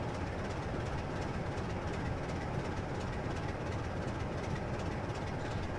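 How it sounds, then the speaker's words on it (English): A train in the Train Simulator game runs along the East Coast Main Line, giving a steady, loud rumble of wheels on track with faint rhythmic clatter, continuous and alone with no talking. "I'll slow the train down as soon as we pass the first points."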